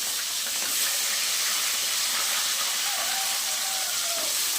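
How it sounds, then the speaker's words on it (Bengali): Steady, loud sizzling hiss of catla fish frying in hot oil, continuous and close, with no talking. "আমার মাছটা লাল লাল করে ভাজা হচ্ছে।"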